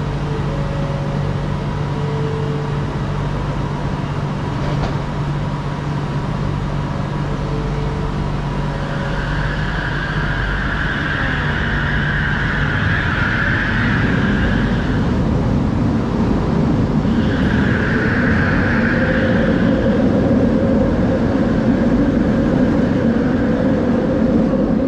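Steady rumbling interior of a driverless LRT train in motion in Kuala Lumpur, Malaysia, with a constant hum, rising whine as it accelerates, and occasional tonal beeps.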